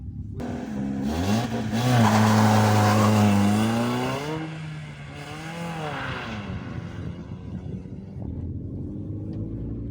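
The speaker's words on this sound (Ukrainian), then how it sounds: "а зараз ми перевіримо ходові якості нашого червоного боліда" A small Hyundai Getz hatchback engine revs up close, rising in pitch through the gears, then settles into a steady driving hum with wind noise.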